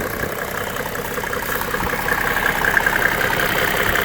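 A 1995 Mercedes-Benz E300 W124 diesel engine idles steadily and close by, a continuous mid-range hum with a faint knocking texture and no talking.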